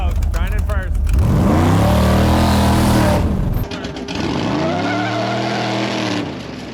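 V8-swapped Mazda RX-7 doing a burnout, engine screaming up to the rev limiter in sweeping rising and falling bursts with tyre squeal, very loud and close, people talking briefly before.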